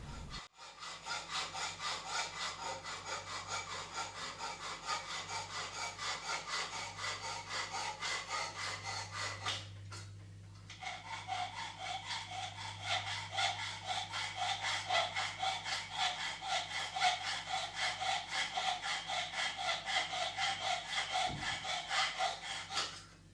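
A hacksaw cuts a slot in a metal tailstock part with brisk, regular back-and-forth strokes, pausing briefly once before resuming at the same close, steady rhythm.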